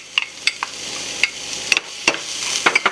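Finely chopped onion added to hot oil with whole masala sizzles in a steady crackling wash, broken by sharp clatters and scrapes of stirring, with no talk.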